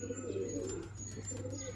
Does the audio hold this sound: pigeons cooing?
yes